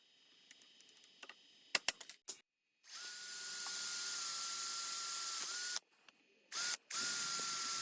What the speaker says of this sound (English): We'll clamp it again, transfer punch, get it out of the way, drill it.